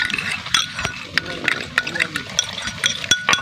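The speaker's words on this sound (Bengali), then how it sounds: "গোলমরিচের গুঁড়ো দিয়ে এটা আমি ভালো করে একটু ফেটিয়ে নিব ডিমটা" Egg is beaten with ground black pepper in a bowl, quick sharp clinks of utensil against the dish ticking out an irregular rhythm close by while a person talks underneath.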